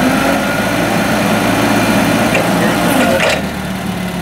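A 2015 Unicarrier CFS60 forklift with a Nissan propane engine runs steadily while its triple mast is operated, a loud close engine drone that eases slightly near the end.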